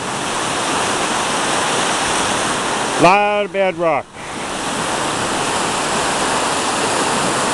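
Loud, steady roar of river rapids rushing over bedrock on a gold claim at Dolittle Rapids, filling the clip throughout; a voice briefly speaks over it near the middle.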